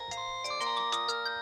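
A cartoon mobile phone rings with a bright, repeating electronic melody of short pulsed tones, close and clear, with no talking over it.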